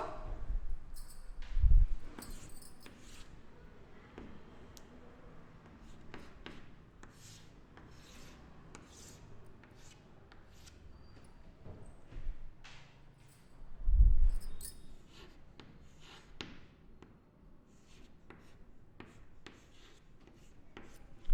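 Pen or marker writing out a truth table for a two-input logic gate in a computer science class: steady scratchy strokes with a couple of louder taps, close and fairly faint, with no talk over them.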